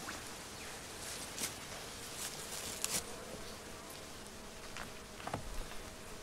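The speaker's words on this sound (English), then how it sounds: "But there's still plenty of bees in here." Honeybees buzz in an open beehive, a soft, steady swarm hum close by with occasional nearer buzzes and faint clicks passing through, no talk.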